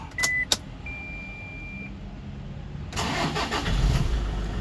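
After a couple of chimes and a soft warning tone, the 2.5 diesel engine of a 2012 Toyota Kijang Innova cranks and fires up, then settles into a rough, close rumble.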